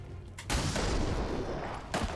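A pistol shot in the tactics game XCOM 2: one sharp, loud report followed by a long rumbling decay, with a second short burst near the end.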